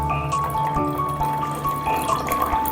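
Water poured into a beaker to prepare soil for a pH measurement, a steady continuous trickle and splash that runs evenly throughout, close and alone with no talking.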